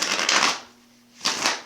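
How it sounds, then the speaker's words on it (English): A tarot card deck is shuffled by hand in two quick riffling bursts separated by a short pause, crisp and close. "most of my decks are already shuffled, but I'm going to shuffle it again"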